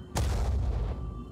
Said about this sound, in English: We'll have to use one of the heavy cannon shots to destroy that wall so we can get vision.